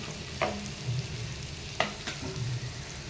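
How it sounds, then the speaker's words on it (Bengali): Onion, garlic and ginger fry gently in a pan with a soft, steady sizzle, broken by a few quick stirring scrapes at intervals; quiet and close, with no talking. "পেঁয়াজ রসুন আদা হালকা করে ভাজবো"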